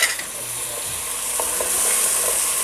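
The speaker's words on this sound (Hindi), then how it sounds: "अब इसमें 1 टेबलस्पून लहसुन जाएगा और 1 टेबलस्पून अदरक जाएगा। इन दोनों को डाल के मैं अच्छी तरह भूनूंगी।" Garlic and ginger fry in a pan with browned onions, a steady bright sizzle running throughout with a few soft stirring scrapes, close and fairly loud with no voices.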